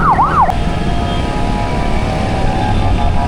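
A brief ambulance siren wail sweeps up and down twice, then fades into a steady rumble of surrounding traffic in Metro Manila.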